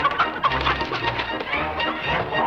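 Chickens in a western TV episode, several birds clucking and cooing close by in quick overlapping calls with no talk.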